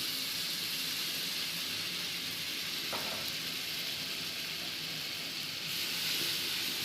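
Ginger garlic paste sizzles and fries in a pan for chicken biryani, a steady hiss of frying with a brief stir or scrape partway through and no voices.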